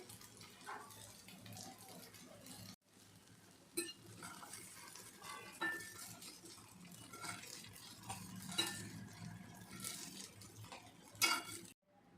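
Fried cauliflower being scooped out of a pan into a bowl, with repeated scraping and clinking of a utensil against metal cookware over a low background hum, occasional louder knocks, and no talking.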